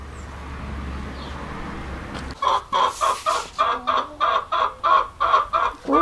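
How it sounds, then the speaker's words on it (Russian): After a quiet hum, a hen starts clucking loudly nearby in a steady repeated rhythm, about ten even calls in a row. "О, курочка так кукукает."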